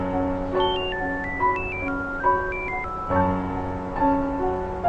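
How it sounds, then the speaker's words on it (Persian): A telephone rings with a melodic electronic ringtone, a bright stepping tune of beeping notes that repeats in phrases, loud and close with no talk over it. "تلفن."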